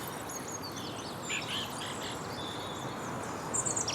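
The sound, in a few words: wren singing at dawn in winter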